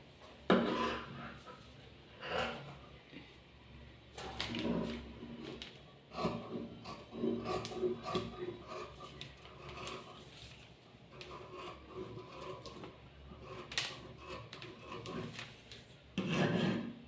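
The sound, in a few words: cutting fabric along a curve for a slip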